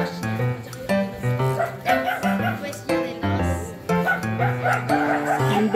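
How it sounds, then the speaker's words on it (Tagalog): Several dogs barking and yipping nearby in loud, repeated volleys, with people talking at the same time. "Tapang ng mga aso dito ah."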